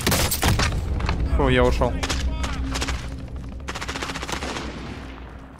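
Video game shootout gunfire: loud, rapid automatic bursts fill the first seconds, then fade to sparser, quieter shots, with a voice speaking briefly over the shooting.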